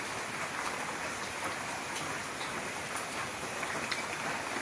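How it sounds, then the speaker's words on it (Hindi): Heavy rain pours steadily in a forest, a dense continuous hiss of falling water at even loudness throughout, with no distinct thunder clap standing out. "गड़गड़ाहट की आवाज और तेज बारिश"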